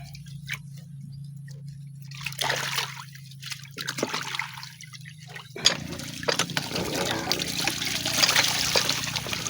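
Herbal roots being washed by hand in water, with trickling and splashing that grows busier and louder in the second half, continuous and close.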